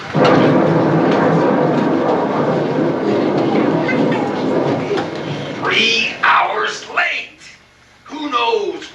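A brewing thunderstorm gives a loud, continuous broadband rumble for several seconds, then fades as voices speak over a quieter background.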